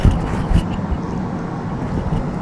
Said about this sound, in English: So this is what it sounds like with the white noise.